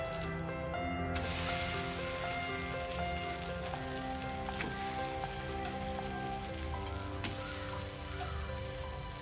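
A dosa cooks on a hot griddle after flipping, giving a steady soft sizzle and fine crackle that continues throughout, with a tonal hum in the background and no voices.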